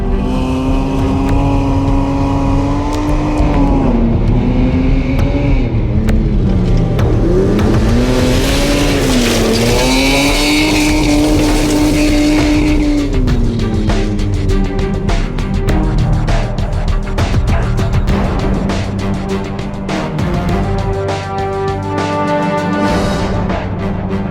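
A red BMW E30 325is is driven hard on a racetrack, its engine revving up and down through gear changes while tires squeal through corners, loud and close, with music playing behind it.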